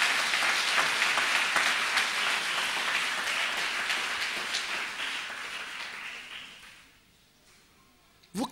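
An audience at a marriage conference claps and cheers for the Holy Spirit, a sustained dense wash of applause that fades out toward the end, followed by a brief sound at the close.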